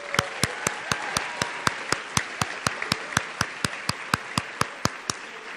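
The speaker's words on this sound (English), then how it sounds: "Please give them a round of applause." Applause in an auditorium at a high school honors convocation: a sustained crowd clapping, with one nearby pair of hands striking sharp, evenly spaced claps about four times a second throughout.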